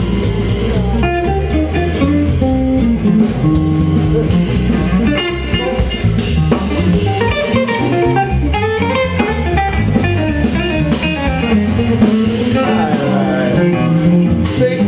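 A live band playing New York City jazz at an awards ceremony, dense and steady with full instrumentation throughout, loud and close with no talking over it.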